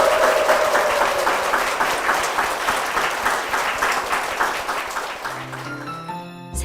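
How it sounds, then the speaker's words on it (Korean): Congregation at Seonggwang Church giving a big round of applause, many hands clapping in a sustained, loud wash that slowly tapers; near the end it cuts into quiet tones of music. "김형미 성도님의 삶이 앞으로 그렇게 하나님의 인도하심 가운데 나아가실 수 있도록 큰 박수 부탁드립니다"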